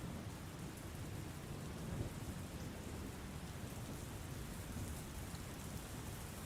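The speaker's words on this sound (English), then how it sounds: "the cloud cover grew dark and rain falls, lightning flashing far above and thunder rumbling in the distance" Steady rain hisses down in a dark storm while low thunder rumbles far off, a dense, even wash of sound with soft swells and no voices.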